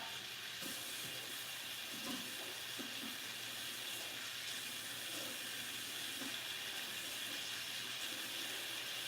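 Water runs steadily from a kitchen tap as food is rinsed, a continuous broad hiss holding at an even level throughout with no talk over it.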